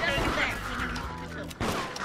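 Gunfire in the multiplayer horror game Deceit, a loud burst of shots at the start and a second blast near the end, with voices talking over the noise.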